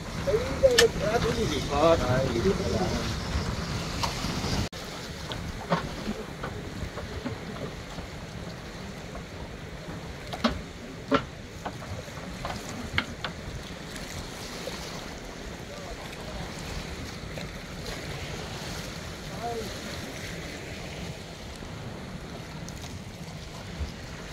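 Wind and breaking waves rush around a tuna fishing boat at sea, with occasional knocks and voices talking now and then.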